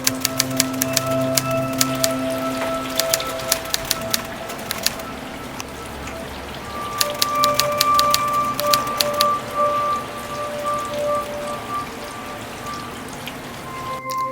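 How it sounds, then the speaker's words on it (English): Rain falls outside in Augusta, Georgia, a steady wash with scattered sharp drips and taps, the louder drops landing in quick irregular bursts over a faint hum. "It's raining outside."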